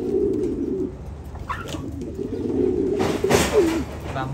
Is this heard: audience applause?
no